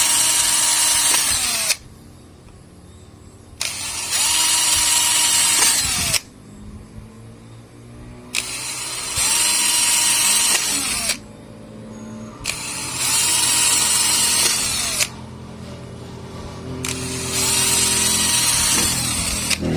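A power drill bores holes in PVC pipe in five separate loud bursts of whining motor and cutting, with short pauses between them and no talk.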